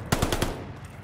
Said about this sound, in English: Hostile strafe inbound.